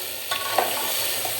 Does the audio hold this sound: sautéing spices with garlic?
yes